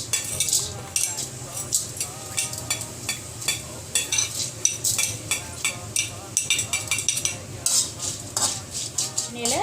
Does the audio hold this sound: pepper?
yes